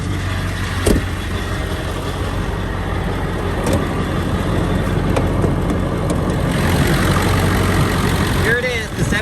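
A stock 2001 Ford F-350 Super Duty Lariat with its 7.3 Power Stroke V8 diesel idles steadily with the hood open, a close, continuous low rumble holding even throughout, with a couple of brief clicks and a faint squeak near the end.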